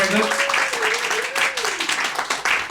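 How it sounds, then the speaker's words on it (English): Audience applause for a volunteer at a comedy workshop, a steady wash of clapping with a voice speaking over it early on, close and moderately loud throughout. "A round of applause to Patrick."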